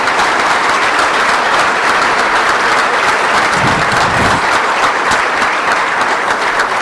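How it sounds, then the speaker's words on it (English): Audience at a scholar-athlete luncheon applauds, a dense, loud, continuous wash of clapping that holds steady for several seconds with no talk over it. "Give them one more round of applause, folks."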